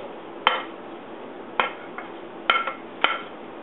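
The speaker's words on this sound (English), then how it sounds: "We're going to add that to our bowl." Cooled corn kernels, cut from the cob, tipped into a salad bowl, heard as five sharp clinks and taps of utensil against bowl, irregularly spaced and close, with light rattling between them.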